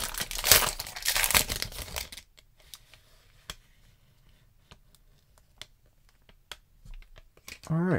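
A foil trading card pack for an NFL card set is torn and crinkled open in a burst of loud crumpling and rustling lasting about two seconds, followed by quieter sporadic clicks and handling of cards.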